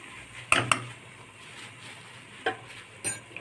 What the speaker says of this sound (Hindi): इसको फ्राई करेंगे हम मैदे को तेल के साथ।